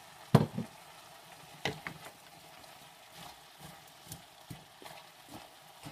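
Peppers and broccoli going into a coconut veggie stir-fry, a faint sizzle with several sharp knocks and clatters of utensils against the pan.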